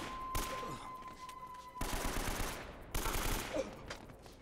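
Bursts of automatic gunfire from the video game Uncharted rattle in rapid fusillades, sharp and fairly loud, with a faint voice underneath.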